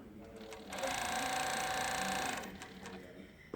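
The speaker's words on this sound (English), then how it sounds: "Sew a couple stitches." A Juki MF-7523 coverstitch sewing machine runs a short burst of a few stitches, a fast close mechanical whir lasting under two seconds and framed by quieter handling sounds.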